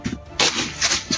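Gunfire in an armed standoff with hunters: a few sharp broadband bangs in quick succession, loud and close, with a burst near the start and another toward the end, with a faint voice at the start.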